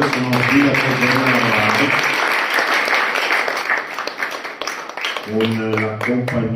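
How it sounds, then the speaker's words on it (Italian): Applause from an audience at a twinning ceremony between Montegalda and Jenne, a loud sustained burst of clapping that fills the middle of the clip, with voices and music-like tones at the start and end. "Un bel applauso per loro che sono qui da 3 giorni"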